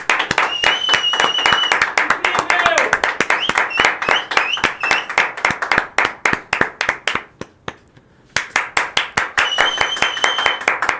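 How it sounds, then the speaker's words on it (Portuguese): Clapping from a small group in a commentary setting, sharp, loud individual claps in a quick irregular rhythm that briefly drops out before resuming, with a whistling tone over it. "palmas pro Walter Salles"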